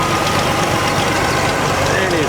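Farmall 460 tractor towing a two-point utility cart at an outdoor antique tractor show, its engine rumbling steadily throughout under a dense crowd and wind wash, with a voice talking over it.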